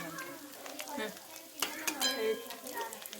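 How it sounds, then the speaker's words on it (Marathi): Bottle gourd mixture is sautéed in oil in a pan, with steady soft scraping and stirring, a light sizzle, and occasional sharper clicks of the spatula against the pan throughout. "चला आता हे लालसर होईपर्यंत परतून घेऊया"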